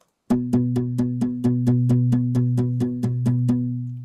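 Dry, unprocessed acoustic guitar sample from Kontakt playing a repeated plucked figure, about a dozen evenly spaced notes starting after a brief silence, clear and close with no talking.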